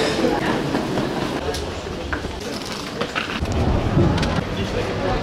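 Station ambience at Warszawa Zachodnia in Poland, with a train rumbling steadily through the platform area and a swell of heavier low rumble near the end, while people talk in the background.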